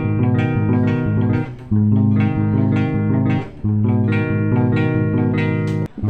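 A bass guitar steps through the notes of a major triad one at a time over a sustained low tone, repeating the pattern in a loud, steady rhythm.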